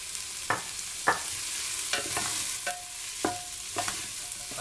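Beef tripe stew sautéing in a pan while being stirred, a constant frying hiss with a handful of sharp spoon scrapes and clacks spaced about a second apart, near and clear, no talking.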